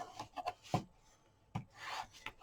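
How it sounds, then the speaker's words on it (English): Paper being burnished down onto a coffin-shaped mini album by hand, giving soft rubbing and scraping strokes in short bursts with brief pauses, close and fairly quiet. "Burnish it down really good."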